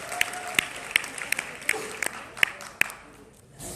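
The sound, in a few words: audience applause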